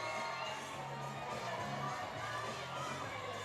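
A large crowd at a lead climbing final in Briançon murmurs and shouts in a constant dense roar, steady and loud, with scattered cheers and children's voices rising within it.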